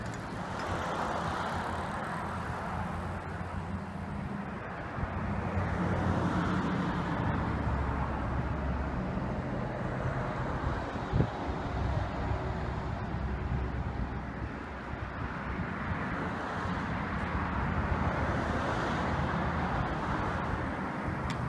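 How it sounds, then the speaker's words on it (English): An X-Treme XB 300Li electric bike ridden outdoors, giving a steady low road rumble with wind noise that swells and eases over the ride, with no talk. "I'm going to ride it around for you and see how it works."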